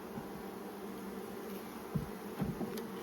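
Honey bees in a hive during an early-season inspection hum in a faint, steady drone, with a few louder close buzzes of single bees passing near toward the end.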